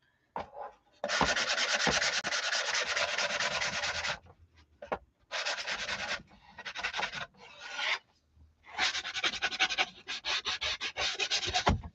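Sandpaper is rubbed by hand over a metal piece to rough up its surface and edges, heard as close, harsh scratching strokes in several long bursts with short pauses between them. No one speaks.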